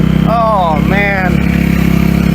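A Kawasaki KX250F dirt bike engine idles steadily up close after an idle adjustment, holding an even, unwavering note while a voice talks over it.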